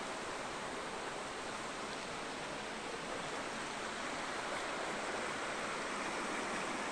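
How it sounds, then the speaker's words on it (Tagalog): A river stream near a swimming spot flows steadily as a continuous broadband rush of water, close and even throughout, with no voices over it. "Ito rin sapa guys."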